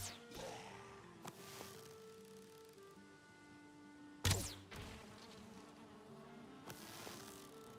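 Insect-like buzzing from bees in a video game runs steadily through the scene, with a sharp loud hit near the middle and some lighter clicks and tones over it, no talking.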